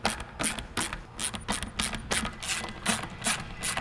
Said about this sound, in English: Using a 1/16 socket.